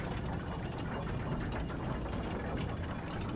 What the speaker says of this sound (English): if you can hear the humming in the background of my air conditioner